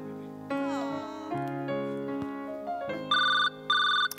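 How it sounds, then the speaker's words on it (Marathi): A telephone rings with an electronic melodic ringtone: a sequence of sustained tones that step through different pitches, ending in two bright repeated beeps, loud and close. "आता कोणाचा फोन आता?"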